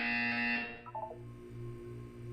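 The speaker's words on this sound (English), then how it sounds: "When you hear the buzzer, look down at the floor." A buzzer from the video game Portal 2 gives one steady electronic tone that lasts about half a second and then cuts off, leaving a low background hum.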